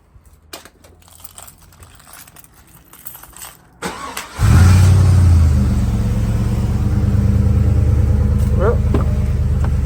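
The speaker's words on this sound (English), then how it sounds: "I only got to get in the car to start this up" A 2001 Chevrolet Suburban fitted with dual batteries and an isolator: quiet shuffling and clicks inside the cab, then the engine cranks and catches, settling into a loud, steady close-up idle with a slight rev.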